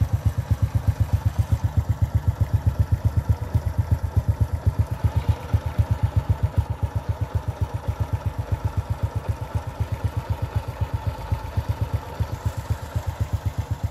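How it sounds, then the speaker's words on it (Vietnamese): A Honda Wave Alpha motorcycle with a black-finished body idles close by, its engine firing in an even, rapid putter that stays steady for the whole stretch with no speech over it. "Xe đang nổ máy nha cả nhà."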